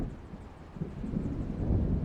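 Low rumbling thunder of an approaching storm in the video game Alan Wake, a broad continuous roll that swells slightly toward the end, steady and moderately loud with no talk.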